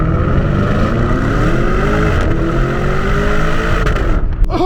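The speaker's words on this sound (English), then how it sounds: "Let's do a 0 to 60 test in the 2019 Lamborghini Urus." A 2019 Lamborghini Urus launching from 0 to 60, its engine loud and close as the revs climb steadily in a sustained rising roar, then cutting off abruptly near the end.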